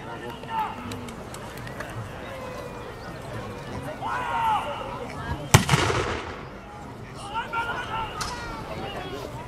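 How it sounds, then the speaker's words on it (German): At a battle reenactment, a 1936 anti-tank gun fires one sharp, loud report midway, sounding fairly close, with a rumbling tail. Crowd noise, movement and scattered distant pops fill the rest. "Mamo protitankovski top, letnik 36, pak na kratko Panzerabwehr, Kanone, s tem bomo poskušali uničati nemške bunkere,"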